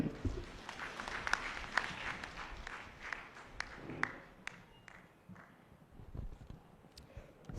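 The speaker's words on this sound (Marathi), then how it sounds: "टाळ्या इतक्या जोरात वाजवा" An audience at a women's day gathering in a church hall applauds, with a moderately faint, scattered clapping that gradually thins out, a few sharper claps standing out.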